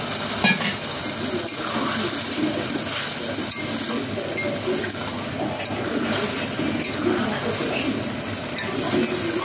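Arrowroot slurry goes into a sizzling chili sauce for aloo pakora, and a continuous loud sizzle follows, broken by scraping stirs and light clinks of a utensil against the pan.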